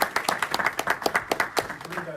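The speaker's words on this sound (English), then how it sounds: "A round of applause. A round of applause." A small audience at a community event gives a short round of applause, sparse distinct claps in an uneven rhythm from a few people nearby, with talk mixed in.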